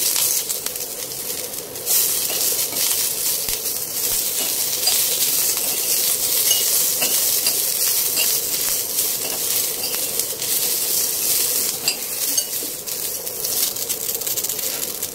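Curry leaves and garlic sizzle in hot oil for a Mangalore-style chicken sukka, a steady, loud, bright hiss running throughout after a brief quieter start, with no talking.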